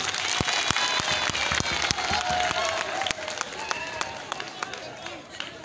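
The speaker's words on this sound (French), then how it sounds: "Applaudissez les professeurs, s'il vous plaît." Applause for teachers from a crowd at a high school performance in Niamey, steady clapping with scattered cheers and some background chatter, fairly distant.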